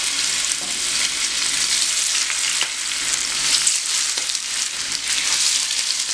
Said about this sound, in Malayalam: ഇതിലോട്ട് നമുക്ക് ഓരോരോ മീനിൻ്റെ പീസായിട്ട് ഇട്ട് കൊടുക്കാം.